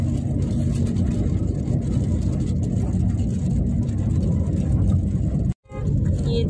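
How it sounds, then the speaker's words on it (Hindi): Steady low rumble of a car on the move, recorded from inside the cabin during a family morning drive, loud and continuous with a brief sudden dropout near the end. "आप लोग देख सकते हैं मैं फिलहाल गाड़ी में हूँ।"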